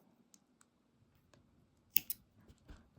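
Two quick, crisp snips as scissors cut through yarn while finishing a double crochet scarf, following a few faint ticks and light handling noises in an otherwise quiet room.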